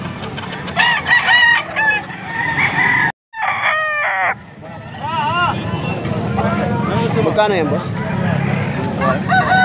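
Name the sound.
rooster crowing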